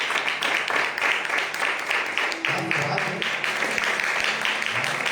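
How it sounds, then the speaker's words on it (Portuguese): A church congregation at an Assembly of God service claps together in a sustained burst of applause, dense and fairly loud throughout with a few faint voices mixed in. "Uma salva de palmas para Jesus,"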